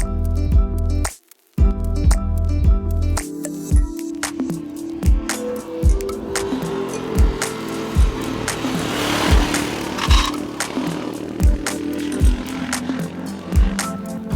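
A Royal Enfield Himalayan motorcycle cruises on the road at about 55 mph, its single-cylinder engine throbbing steadily with a regular pulse under loud wind rush, close and continuous.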